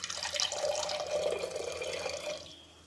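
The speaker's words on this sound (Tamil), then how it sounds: "அப்படி ட்ரைன் பண்ணிக்கலாம்." Soaking water drains off soaked chickpeas in a steady close trickle and splash, fading out near the end.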